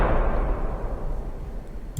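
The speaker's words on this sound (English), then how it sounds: "So the jump scare sound just sounds something like this." A deep, booming jump-scare impact for a horror game, with a long reverberant tail that rolls and decays for about two seconds, heavy in the low end.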